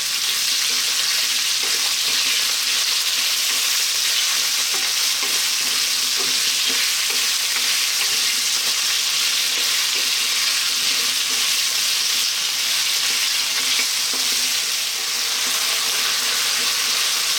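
Vegetables fry over an above-medium heat in a pan for veg biryani, a steady broad sizzle with stirring scrapes running without a break throughout, close and fairly loud, with no talking.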